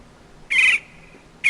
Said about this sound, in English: More birds, yeah.